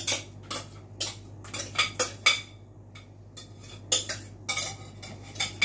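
Metal spoon clinks and scrapes against a pan while tomato sauce is spooned and spread over lasagna pasta layers, a series of irregular close taps with quiet pauses.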